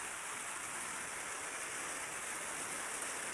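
Heavy rain pouring at night in Saudi Arabia, a dense, continuous roar of falling water hitting surfaces, steady and loud throughout with no voices.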